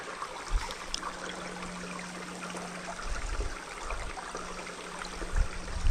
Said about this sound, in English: that sound of that water babbling right there is a lot nicer than that highway going by